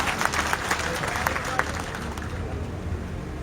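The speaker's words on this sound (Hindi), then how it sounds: "मैं चाहूंगा कि पूरण सिंह जी का तालियां बजाकर अभिनंदन करें।" Crowd at a Karni Sena maha panchayat gathering in India applauding, a dense clatter of clapping with murmuring voices mixed in, loud at first and easing off toward the end.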